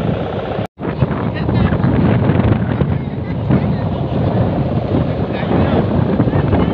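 Strong, steady wind roars and buffets the microphone outdoors during kite flying at a kite meetup, loud and continuous apart from one brief dropout near the start.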